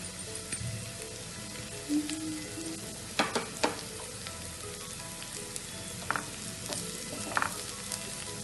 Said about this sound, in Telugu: ఇవి కూడా కొంచెం పచ్చివాసన పోయి కొంచెం బ్రౌనిష్గా వేగే వరకు కొంచెం సేపు